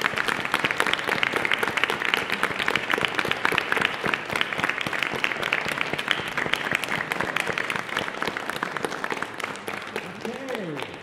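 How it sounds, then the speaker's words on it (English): A large audience at a closing piano festival concert applauds, dense sustained clapping from many hands filling the room for about eleven seconds before it begins to thin out. "Let's give ourselves a round of applause."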